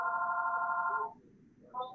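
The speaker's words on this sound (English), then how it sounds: "Somebody answer your phone." A telephone rings during a Zoom video call, one long electronic trill followed by a brief pause and the start of a second ring, fairly quiet with no talking.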